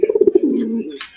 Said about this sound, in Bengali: জেড ব্ল্যাক কালা কুচকুচা এক জোড়া মুখী কবুতর, ডাকের দিক দিয়ে কিন্তু সেরা